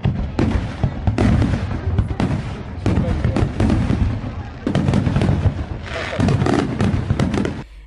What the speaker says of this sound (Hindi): दीपावली त्योहार पर लोगों ने बढ़ चढ़कर आतिशबाजी की